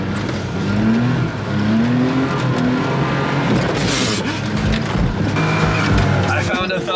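A Japanese mini truck, diff locked in two-wheel drive, driving through snow; its small engine revs up and down repeatedly, loud and close, with people talking over it.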